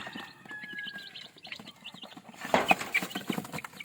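One-month-old chicks in a backyard setting, soft scattered peeping and clucking close by with light shuffling, a busier burst of chirps near the end, no talk.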